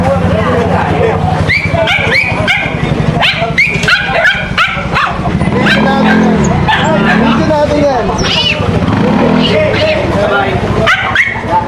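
A dog barks and whimpers in repeated yips and whines close by, heard under steady, lively conversation between several people, with faint traffic noise in the background.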